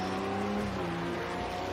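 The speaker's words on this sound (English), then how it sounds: "the old Audi doesn't even sound like it's revving, does it, with diesel?" A diesel Audi race car's engine drones at a 24-hour endurance race at night, a steady, low, smooth tone with slowly sliding pitch and little revving, moderately distant and unbroken for under two seconds.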